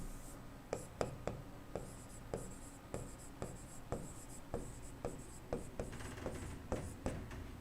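A pen writes notes on a board or paper during a chemistry lesson: repeated scratchy strokes in an uneven rhythm, close and fairly clear, with no talking over them.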